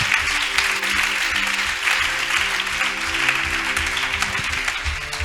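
A church congregation applauding at a Sunday service, dense steady clapping from a large crowd that fills the room for several seconds, with voices and tonal sounds running underneath.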